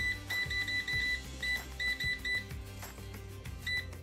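An air fryer's control panel gives repeated short electronic beeps while the temperature is set to 320, in quick bursts over a low hum, close and clear.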